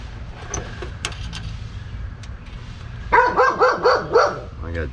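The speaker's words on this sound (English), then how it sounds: "I got doggy back here." A dog gives a quick run of about five loud barks nearby near the end, after a stretch of steady background hum and light clatter at a service call.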